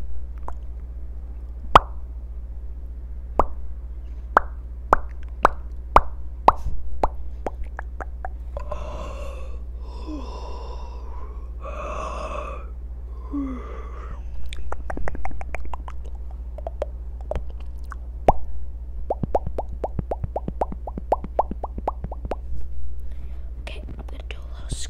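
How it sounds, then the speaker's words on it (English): Close ASMR mouth sounds: scattered wet clicks and pops with breathy whispered bursts in the middle, soft and intimate over a low steady hum. "All we're gonna do is some mouth sound."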